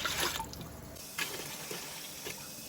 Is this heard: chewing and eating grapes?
no